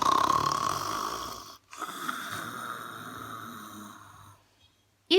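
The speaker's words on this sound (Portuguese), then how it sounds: "Ao dormir, roncou assim." A lynx snores in an audiobook sound effect, a loud nasal rumbling inhale with a whistling edge, a short pause, then a second, softer snoring breath, ending on a brief snort.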